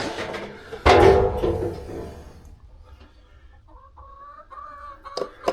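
Hens in a homestead flock of fifteen. A loud flurry of squawking and movement settles into softer, drawn-out clucks and murmurs nearby.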